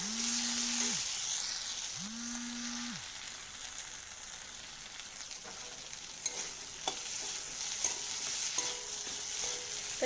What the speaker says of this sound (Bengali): তো এরপর আমি ভেজে রাখা মাছের মাথাটা দিয়ে দিলাম তো ভালো করে এটা নাড়িয়ে নেব